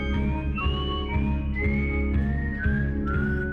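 An eerie, X-Files-like whistle carries a slowly gliding melody over sustained low music, steady and fairly quiet throughout.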